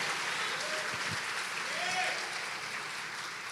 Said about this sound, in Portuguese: aplauda forte e glorifique a Ele